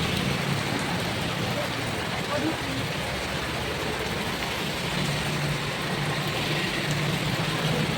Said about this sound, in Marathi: चला पाऊस बघा ना किती पडतोय.